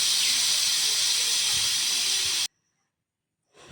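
A pressure cooker with potatoes and green bananas inside vents steam in a loud, steady hiss for a couple of seconds, then it cuts off abruptly, leaving near silence.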